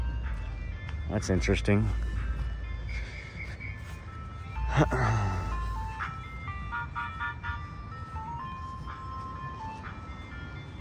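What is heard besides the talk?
ice cream truck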